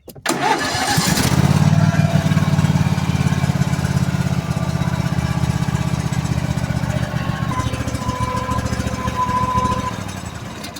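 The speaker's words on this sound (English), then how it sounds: "start the engine and idle it to warm up the oil" A 679cc lawn mower engine starts and settles into a loud, steady idle, rumbling continuously close by for about ten seconds, with a slight change in tone late on.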